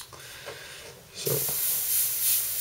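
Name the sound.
airbrush spraying paint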